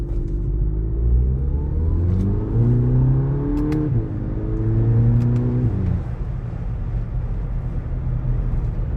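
A 2019 VW Polo GTI 2.0 DSG engine revs hard through several gears in sport manual mode, pitch climbing and dropping at each shift, loud and close with a rumbling exhaust.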